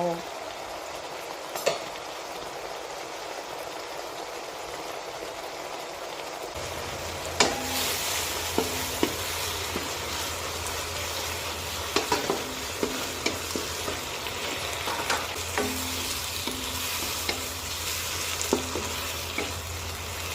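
King oyster mushrooms stir-fry in a pan for a Thai basil dish. A quiet stretch gives way to a loud, constant sizzle, with frequent scraping taps of a spatula against the pan at close range.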